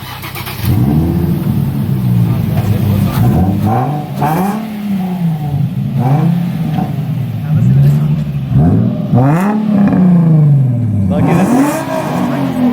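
A Nissan 350Z with a custom single-exit exhaust and no catalytic converter revs repeatedly up and down, loud and close, with sharp exhaust pops, while someone talks over it.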